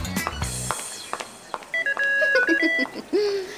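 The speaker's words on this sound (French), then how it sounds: "On a intégré une alarme à nos poudriers en fait. C'est pratique, elle sonne dès que notre front commence à briller." An alarm built into a cartoon powder compact, giving a series of electronic beeping tones and bright warbling melody notes with short gaps between them, clear and close.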